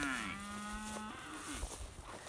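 A single cow moos loudly and close in a thick summer paddock, a long low call with a falling tail, followed by quieter rustling and distant farm noise.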